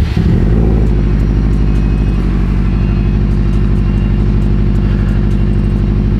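Subaru STI car engine cranking and catching, then settling into a loud, steady idle with a deep rumbling burble close by.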